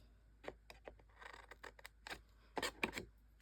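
Scissors snipping through paper along a score line while trimming pieces for a Christmas album craft; a quiet, irregular series of short crisp cuts close by, growing slightly louder toward the end, with no talking.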